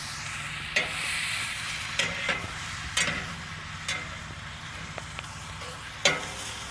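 Apples caramelizing in a pan on a Big Green Egg ceramic grill: a soft, steady sizzle punctuated by about six sharp spoon-against-pan knocks from stirring, close and fairly quiet, with no talking.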